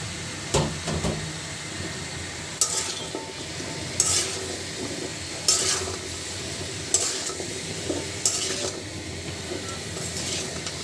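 Chopped bottle gourd cooks in a hot pan with spices, giving a steady low sizzle with a few sharp scraping stirs of a spatula at regular intervals, close and clear.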